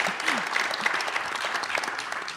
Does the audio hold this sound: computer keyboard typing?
no